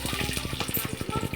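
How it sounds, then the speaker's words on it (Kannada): Onions dropped into hot oil in a pan, with a close, loud, continuous sizzle and crackle throughout a short stretch. "ಈರುಳ್ಳಿ ಹಾಕ್ತಿದ್ದೀನಿ."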